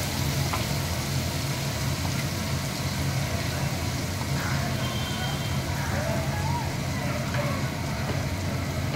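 A ground paste of chilli and garam masala sautés in hot oil for prawn malai curry, giving a steady, fairly faint sizzle with soft crackles throughout.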